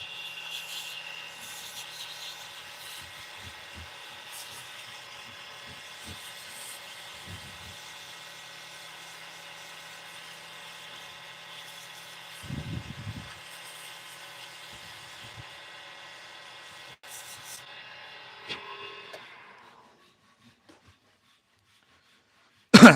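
Lathe-turned wenge pen blank being sanded with 120 grit sandpaper, a steady close whirring rub that runs for about twenty seconds and then stops, with a few brief knocks along the way.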